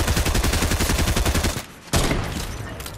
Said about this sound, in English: Heavy sniper, golden heavy sniper, let's go.